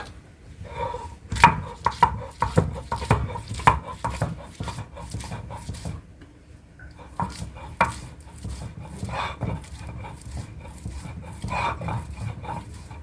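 Garlic being ground by hand on a stone slab (pata), giving a steady run of rough scraping and knocking strokes up close, pausing briefly midway before resuming.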